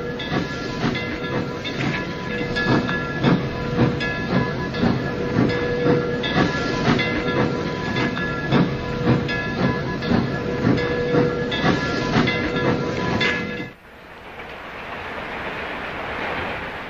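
Steam locomotive 268 working along a railroad in the Rockies on a crisp autumn day, with a loud, continuous chuffing roar, steam hiss and clanking that runs close and steady before cutting to a quieter, hissing tail.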